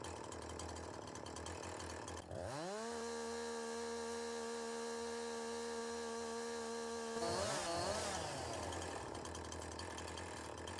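A chainsaw on a small farm revs up sharply from a low rumble to a high, sustained whine while working on tree stumps, holds steady for several seconds, then sputters and drops back to a rough idle.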